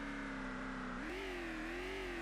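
A video game car engine labours steadily uphill, a sustained mid-pitched drone that rises slightly in pitch about halfway through as it strains, with no talking.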